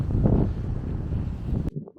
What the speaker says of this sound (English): Don't know how much audio you'll pick up on this because it's windy.